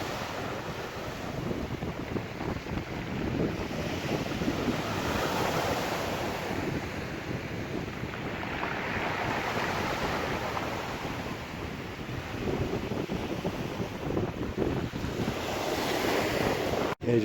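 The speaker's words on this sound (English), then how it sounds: "Yeah, just taking a walk down the seafront." Waves breaking along a seafront in Tenerife with strong wind gusting across the microphone, a loud continuous surging roar swelling and easing over time, without any talking.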